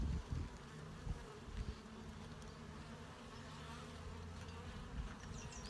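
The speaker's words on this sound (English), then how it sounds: "big looking bees there." Honey bees buzz steadily and close by as frames are lifted during a hive inspection, a dense continuous hum with no voices.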